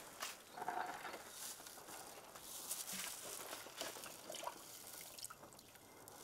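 Water steeped with basil (tulsi) is poured from a mug into a homemade organic decomposer mix, a soft continuous trickle and patter lasting several seconds, quiet and close without speech.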